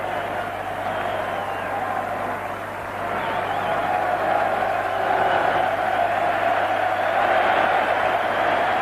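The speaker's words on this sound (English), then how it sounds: "the big cheer going up for Paul Rendell" A large stadium crowd at Twickenham roars and cheers for England's Paul Rendell during the 1991 Rugby World Cup match against Italy, a steady, swelling wash of voices that grows louder partway through and holds.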